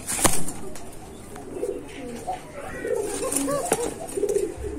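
Pigeons at a fancy pigeon farm give soft, low cooing calls with a few wing flaps, faint and close, interspersed with quiet handling noise.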